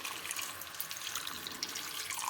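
Warm water is poured into a thick masala curry with fenugreek and gram-flour dumplings, making a faint, steady, splashy pour that runs the whole time, quiet and alone.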